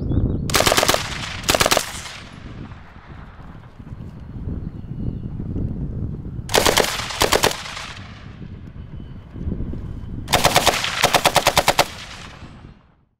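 A British Bren light machine gun fires outdoors in three loud, short bursts of rapid rounds, each ringing out with a long echoing tail across open ground and wind noise between bursts.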